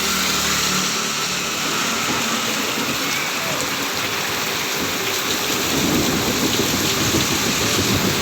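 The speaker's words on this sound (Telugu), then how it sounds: "ఇక్కడ వర్షం పడుతుంది 1 hourగా." Heavy rain pours down near Galiveedu in the Rayachoty area of Kadapa, a loud, dense, continuous hiss with low thunder rumbling beneath it throughout.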